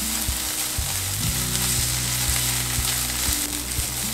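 Chopped green chillies and ginger garlic paste fry in hot oil with a loud, dense, continuous sizzle, close up, with a few faint knocks of a stirring utensil and no talk.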